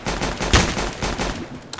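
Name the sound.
gunfire in Roblox Counter Blox video game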